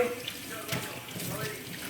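Lukewarm tap water runs steadily from a faucet into a sink while hair extensions are washed. A continuous close splashing flow carries a few brief louder surges.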